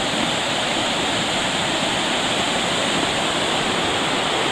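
A mountain stream rushes steadily beneath a bridged trail crossing, a constant loud hiss of flowing water with no breaks and no talking.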